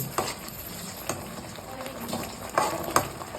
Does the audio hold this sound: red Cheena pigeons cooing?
no